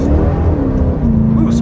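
A car engine revs up loudly and close by with its wheels spinning, a steady strained roar that rises slightly in pitch across the short burst, while a voice speaks over it.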